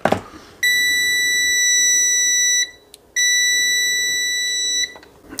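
The beeper on an ASTROAI MUS4KRD smart multimeter sounds loud, piercing continuous tones close up, two long beeps separated by a short gap.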